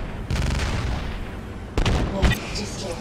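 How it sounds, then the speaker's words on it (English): Battle explosions in the mech combat game MechWarrior: Living Legends come as loud, rough bursts. A long roaring blast opens, then two sharper cracks follow close together over constant background noise. "This explosion hurt."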